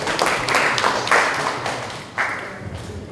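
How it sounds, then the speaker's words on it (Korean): Audience applause welcoming a guest speaker at a nuclear safety regulation workshop, a steady wash of clapping over about three seconds with a brief swell near the end, moderately loud and close. "큰 박수로 환영해 주시면 고맙겠습니다"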